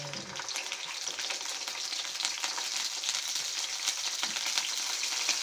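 Tulingan, bullet tuna, frying in a pan in a home kitchen, a dense, steady crackling sizzle with continuous spitting pops, close and loud with no voices.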